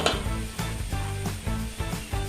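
Two dried red chillies frying in a pan while being stirred, a crackling sizzle broken by repeated scraping knocks of a utensil against the pan, close and moderately loud with no talk.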